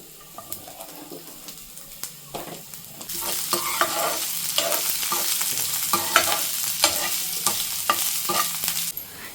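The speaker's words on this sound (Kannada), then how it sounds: "ಚೆನ್ನಾಗಿ ಫ್ರೈ ಮಾಡ್ಕೊಳ್ಳೋಣ." Ginger, garlic and onion stir-fried in a pan for a spicy dragon chicken, giving a steady sizzle cut by repeated scraping stirs that grow louder and busier partway through.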